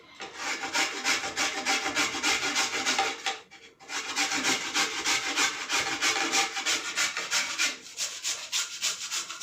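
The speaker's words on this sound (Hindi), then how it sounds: "तो आलू को हमने घिस लिया और निकाल लिया" A peeled potato rubbed steadily against a grater for a face cleanser, a continuous close scraping rasp in quick repeated strokes with one short pause partway through.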